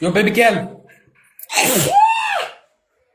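A woman sneezes loudly and close up during a sneezing fit on a livestream, one forceful burst following a short gap after someone speaks.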